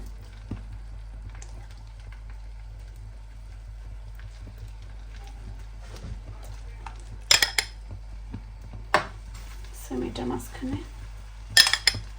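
A metal spoon clinks and scrapes against a dish while filling is placed in its centre, a few sharp scattered taps over a low steady hum in a quiet kitchen.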